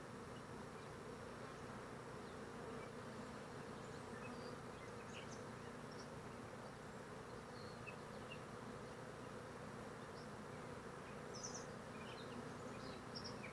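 Honeybees buzz steadily around an opened beehive while a brood box is put back, a dense, continuous hum close by with scattered higher buzzes of individual bees passing near.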